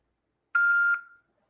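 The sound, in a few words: voicemail beep before leaving a message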